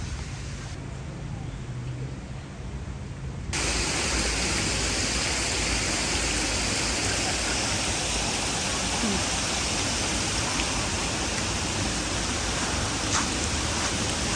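An artificial waterfall beside a snack spot in northern Thailand pours as a steady, loud rushing wash that fills the whole stretch, with no break or change.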